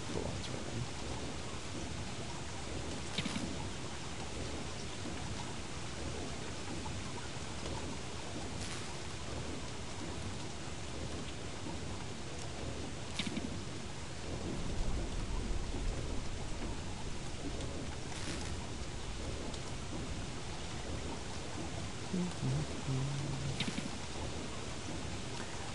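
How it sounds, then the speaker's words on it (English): Rain falls in the video game Don't Starve Together as a steady, dense hiss that runs without break, with a few soft thumps underneath. "I do like the little water on the windshield effect for when it's raining."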